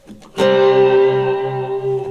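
A reverb pedal sustains a tone an octave above the played note. A brief attack is followed by a bright, steady shimmering tone that rings loudly for about two seconds.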